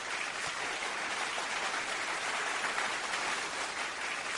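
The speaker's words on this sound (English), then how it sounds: "I want to give a round of applause to our very own Morgan Cunningham" A round of applause on a radio show forms a dense, even wash of many clapping hands, steady and unbroken, sounding like hiss or rain without distinct individual claps.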